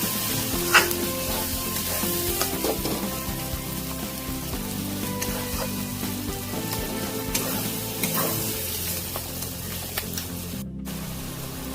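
Spice masala paste for mutton kasha is fried in a pan with a splash of water, giving a continuous close sizzle and crackle with occasional stirring scrapes, no voices.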